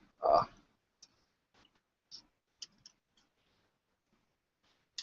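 Typing on a computer keyboard in a quiet room: a handful of sparse, separate key clicks and taps spread across a few seconds, with one louder thump at the start.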